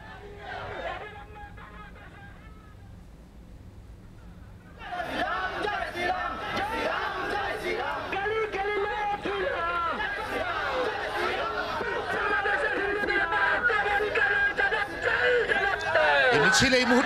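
Crowd of protest marchers in a street procession in Kolkata, heading from Sealdah station toward Rani Rashmoni Avenue; a quieter stretch gives way to loud, continuous chatter and shouting from many voices nearby.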